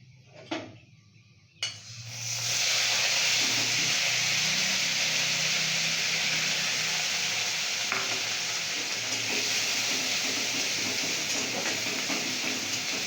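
Grated onion hits hot oil already holding dried chilli, cumin, whole garam masala and bay leaf. After a couple of clatters, a loud, sustained frying sizzle erupts and holds steady, with faint utensil sounds.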